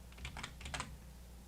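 A computer keyboard is typed on in a short run of quick, light key clicks, close and fairly quiet, arriving in two small bursts over a low steady hum.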